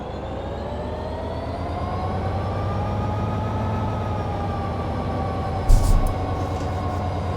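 A train in a train simulator video game starting to roll after throttle is applied, a steady rising engine drone and rumble with a brief clunk partway through.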